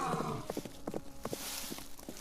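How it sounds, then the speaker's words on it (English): Horses and other animals walk toward the ark, irregular hoofbeats clopping at a steady walking pace, fairly faint and close, with no voices over them. "Camels, horses, lions, sheep, every creature walked calmly toward the ship."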